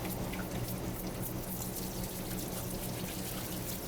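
Cold tap water runs steadily over fresh oysters as they are rinsed and scrubbed in a restaurant kitchen, a continuous close splashing stream with no one speaking.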